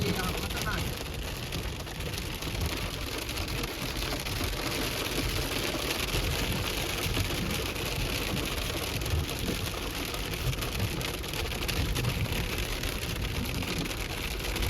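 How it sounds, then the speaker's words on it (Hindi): Snow pellets fall steadily on a rainy hike at Song-Kul lake in Kyrgyzstan, making a dense, continuous patter that lasts throughout. "ये बर्फ़ के गोले गिर रहे हैं"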